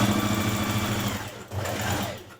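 A sewing machine stitches a dart toward its point on a New Look 6446 summer jumpsuit, humming steadily and close, with a brief dip in the run midway before it resumes.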